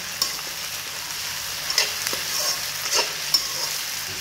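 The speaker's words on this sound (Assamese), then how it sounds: "এতিয়া পিঁয়াজখিনি দি এইখিনি ৰঙা হোৱালৈকে ভাজি থাকিম" Onions fry in a pan of hot oil for goat meat curry, a soft continuous sizzle punctuated by a few sharp pops and spatula scrapes, close up with no talking.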